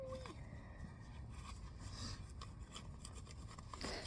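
A hoof rasp working steadily over a horse's hoof during a barefoot trim of an off-track Thoroughbred mare, a continuous close scraping rub that persists throughout.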